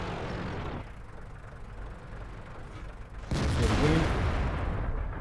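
Tank cannon fire from World of Tanks, an STA-1 medium tank in battle: a muffled gun report at the start, a quieter rumbling stretch, then a louder burst of firing and impact noise from about three seconds on. No voices.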